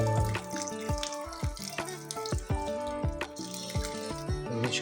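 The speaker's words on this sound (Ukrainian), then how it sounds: "додаємо водички, тому що повинно тушитися" Water is poured into a pan of rice and vegetables, with splashing and bubbling pours forming a series of uneven gurgles close by.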